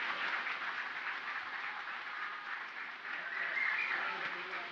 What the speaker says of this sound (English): Let's give a warm round of applause to Oscar Hernandez, who is the product lead for BYD Mexico